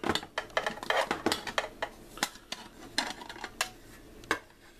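A metal M52 French Army mess kit is unlatched, opened and turned over, giving a quick series of sharp metallic clanks, scrapes and rattles close by, with no talking.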